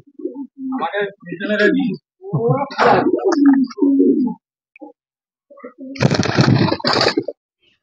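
Racing pigeons coo in low, rounded bursts close by, mixed with someone talking loudly over them, with short pauses between the phrases.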